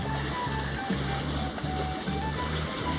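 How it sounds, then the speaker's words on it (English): Calm ocean water washes steadily near shore off St. Augustine, Florida, heard from aboard a sailboat, with a low engine-like hum running underneath. "the ocean is calm and the waves are calm"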